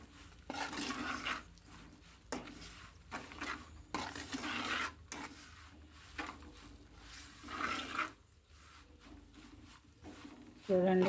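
Cluster bean (goru chikkudu) curry being stirred as it fries in a pan, with intermittent scraping and rubbing bursts of a spoon against the pan, moderately close, while a person talks between the stirs.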